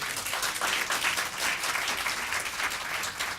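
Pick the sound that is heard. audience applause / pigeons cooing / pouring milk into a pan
audience applause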